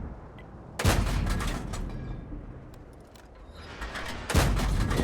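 Artillery fire in the tank game World of Tanks: two loud, sharp booming blasts several seconds apart, each with a brief rumbling decay, over low battle ambience.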